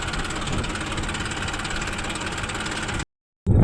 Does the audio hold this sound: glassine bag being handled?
no